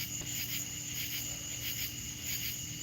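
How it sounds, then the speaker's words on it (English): Crickets and katydids chirp steadily outdoors at night, a dense insect chorus holding a constant high trill with pulsing katydid calls throughout, moderately loud and with no voices. "Crickets and katydids."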